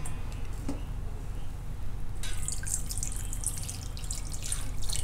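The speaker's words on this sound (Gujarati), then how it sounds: "બ્રેડને આપણે પાણીમાં નાખીને પલાળવાનું" Bread being dipped into water to soak, a quiet hollow drip and faint watery splashing that grows brighter and more sloshing in the second half, close by with no voices.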